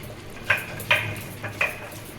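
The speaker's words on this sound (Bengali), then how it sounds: "এটা আমি একটা প্লেটের মধ্যে ঢেলে নিচ্ছি" Cooked Malabar spinach greens with poppy seed (pui shak posto) are transferred onto a plate. Three or four sharp clinks of a utensil against the plate sound close by over low kitchen background, with no talking.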